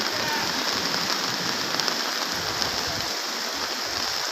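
Heavy rain pours down steadily in Tiruchendur, a dense hiss of drops striking surfaces nearby, with no voices.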